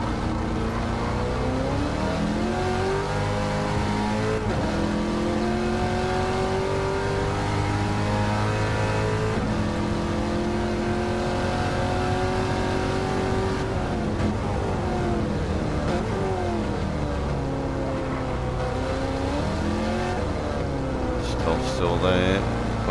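A race car engine in Gran Turismo 7 at Lago Maggiore revs hard and climbs through gears, pitch sweeping up and dropping at shifts, loud and continuous, with speech over part of it.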